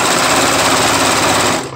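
An overlocker sewing machine running fast and steady, a loud continuous mechanical rattle that stops abruptly at the end.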